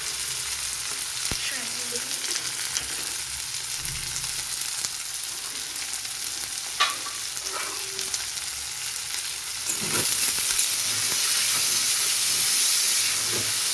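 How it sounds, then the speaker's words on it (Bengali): Onions frying with a pinch of salt in a pan for a Mughlai paratha filling give off a steady, close sizzle and hiss that swells louder near the end, with no talking. "পেঁয়াজটা একটু ভাজা ভাজা করে নেব।"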